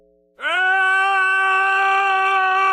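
A cosplay contestant at an audition lets out a loud, sustained military drill-style shout, close and strained, holding one steady pitch for over two seconds after a brief quiet lead-in.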